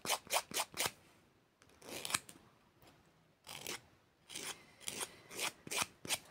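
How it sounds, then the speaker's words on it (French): Close, crisp rasping of a file on a press-on nail, quick bursts of short back-and-forth strokes separated by brief pauses. "il a fallu que je lime au plus ras que je peux"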